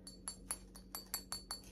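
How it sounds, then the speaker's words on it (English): A glass mist spray bottle clinks repeatedly, about eight bright, close chinks in an uneven rhythm over a faint low hum. "I am just loving the packaging, like the glass bottle mist spray."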